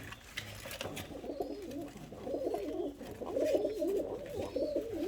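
Polish Königsberg pigeons cooing inside a coop, a steady run of soft, rolling coos from several birds close by, growing slightly louder toward the end with no talking.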